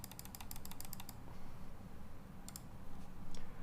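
Rapid clacking of typing on a Tiger 80 prototype mechanical keyboard, a dense burst of crisp keystrokes up front, a pause, then a few more scattered clicks, close and fairly quiet.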